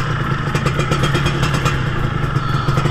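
A 1991 Suzuki RG Sprinter motorcycle engine runs steadily on a test ride, a loud, continuous buzzing drone with a low pulsing throb and slight rattling, no voices over it.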